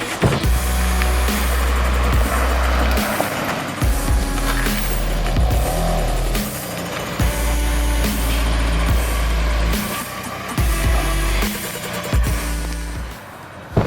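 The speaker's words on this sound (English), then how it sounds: "bring it over, have a little listen to the engine" BMW M2 Competition engine idling and revving close by, a loud continuous drone with repeated throttle blips and deep low rumble, alone without talk.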